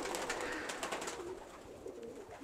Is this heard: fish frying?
no